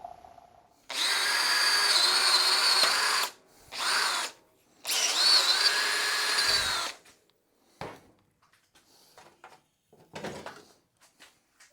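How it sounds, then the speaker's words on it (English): Power drill enlarging a hole to 7/16 inch in a rear stand part for a 1927 BSA wedge tank motorcycle, running in three loud close whirring bursts, then quiet handling clunks. "I've drilled one side out and now I've drilled the other"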